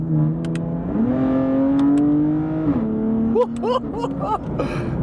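A high-mileage BMW M4 engine revs up close and loud as the car drives off, then settles into a steady drone before easing back. A voice joins briefly near the end.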